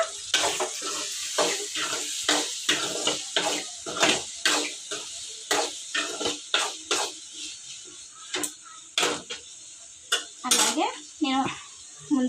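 A spoon scrapes and clanks against a pan while curry is stirred near the end of cooking, giving a steady run of sharp metallic knocks and scrapes, with quiet talk in the background.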